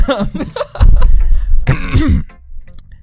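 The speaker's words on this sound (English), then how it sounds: "That was a real cough" A single sharp cough bursts out close by, followed by a brief rough throat-clearing sound and then near silence.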